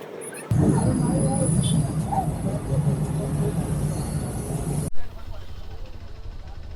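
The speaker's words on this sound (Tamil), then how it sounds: "ட்ரெயின் வர போகுது வந்துடுத்து." A steady rumble of an approaching Indian Railways train fills the station with a high whine above, amid crowd noise, then cuts off abruptly near the end.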